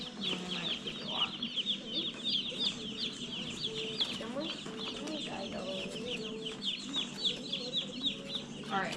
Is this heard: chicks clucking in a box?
yes